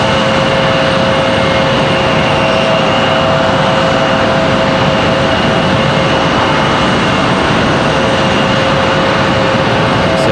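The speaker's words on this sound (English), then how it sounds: "you guys can hear that E175 coming into the gate down here just below us." Steady, loud jet engine roar with a sustained whine, an Embraer E175 airliner taxiing slowly to the gate at Raleigh-Durham International Airport, no voices.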